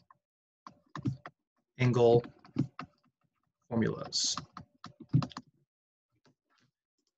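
Keys click on a computer keyboard during a math lecture, quick sparse bursts of typing close to the microphone, alternating with someone speaking in between.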